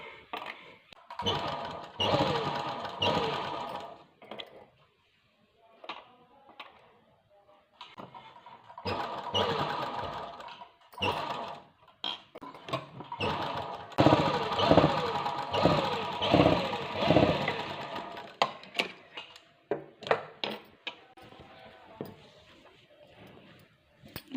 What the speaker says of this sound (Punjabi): ਇੱਦਾਂ ਥੋੜਾ ਥੋੜਾ ਕੱਪੜਾ ਫੜ ਕੇ ਫਿਰ ਤੁਸੀਂ ਇਹ ਸਲਾਈ ਲਗਾਉਣੀ ਹੈ